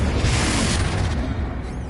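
Confringo fire spell blast in Hogwarts Legacy, one loud rumbling explosion that starts at full strength and slowly tails off, with no talking over it.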